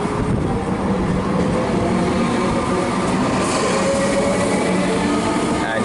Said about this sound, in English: we've got this Comenge departing